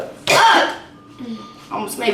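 A single harsh cough bursts out up close, followed by a short, quieter throat sound and a brief voice.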